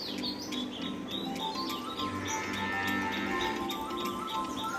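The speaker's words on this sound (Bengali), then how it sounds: "পাখিগুলো কত সুন্দর ডাকছে" Birds chirp and tweet nearby in short repeated calls over a steady outdoor background hum, with no one talking.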